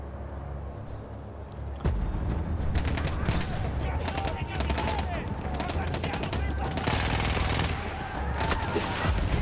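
Sustained battlefield gunfire in the World War I shooter Battlefield 1, dense overlapping shots and bursts under a constant noisy din, with a voice talking over it.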